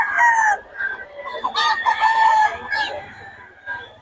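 A black hen clucking and crowing up close in a loud, drawn-out run of calls, with a little low background noise at a poultry sale.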